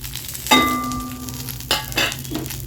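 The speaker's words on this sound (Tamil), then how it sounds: "உப்பு போட்டு வறுத்திங்கன்னா மிளகா நெடி அடிக்காமல் இருக்கும்" Dried chilies, salt and curry leaves dry roasting in a kadai, with a squeaky metal scrape of a spoon followed by a couple of shorter rustling stirs over a faint sizzle.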